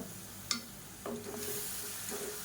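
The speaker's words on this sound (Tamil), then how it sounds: "இப்போ தக்காளி போட்டு நல்லா வதங்கிட்டு இருக்குது" Tomatoes sauté in oil in a pan for a village-style radish lentil ball curry, giving a soft, steady sizzle with a brief clink and scrape of stirring, quiet and close.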